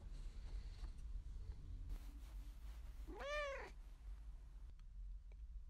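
A cat lets out a single clear meow, rising and falling, over low steady background hum.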